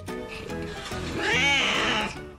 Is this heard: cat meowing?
yes